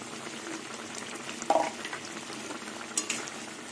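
Ghee sizzles and bubbles quietly in a pan while potol bora cooks, a steady low frying hiss with a couple of sharper pops and clinks partway through; no one speaks.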